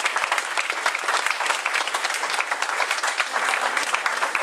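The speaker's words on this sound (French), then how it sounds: "je pense que vous pouvez les applaudir parce qu'ils ont fait une super perte" Dense, continuous applause from an audience at a youth football tournament draw in Brétignolles-sur-Mer, many hands clapping close and loud throughout.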